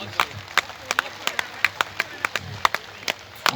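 An audience claps in scattered, uneven individual claps, a dozen or so sharp slaps spread over a few seconds against a low room murmur.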